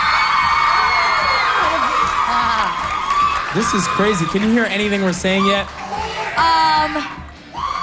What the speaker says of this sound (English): they've been screaming like this all day, just waiting for you